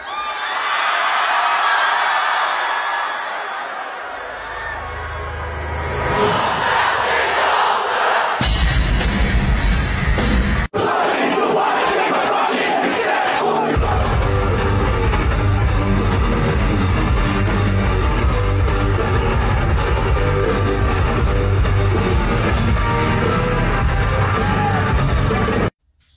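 Loud live concert audio from a show, with a large crowd yelling and singing along over heavy, dense music that stops abruptly at the end.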